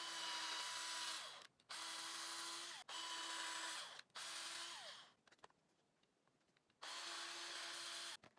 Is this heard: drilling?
yes